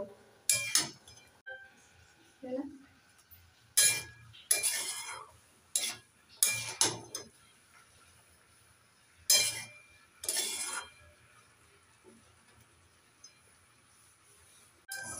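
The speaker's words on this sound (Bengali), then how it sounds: "মশলার সাথে লাউটাকে ভালো করে মিশিয়ে নিয়েছি" Bottle gourd with spices is stirred in a pan, giving a series of scraping, clinking spoon-on-pan strokes separated by quiet gaps, fairly close and moderately loud.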